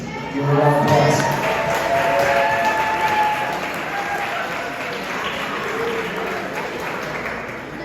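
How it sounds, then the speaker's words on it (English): Loud applause from an audience at a school sports banquet welcoming the swimming coach, swelling quickly and then holding steady for several seconds, with a few voices and cheers mixed into the dense clapping. "Give a round of applause."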